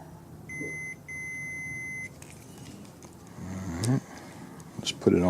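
A multimeter on continuity gives two steady electronic beeps while testing a switch on a Yamaha Bear Tracker ATV, close and clear, followed by clicks and handling noise with a voice briefly at the end.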